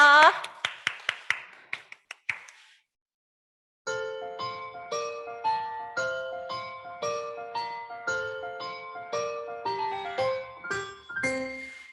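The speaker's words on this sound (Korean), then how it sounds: "오신 예수님께 감사의 박수 드릴게요." A church congregation at a Sunday worship service claps briefly, a few scattered handclaps that thin out and stop after about two seconds, followed by a pause and then gentle melodic keyboard or bell-like music.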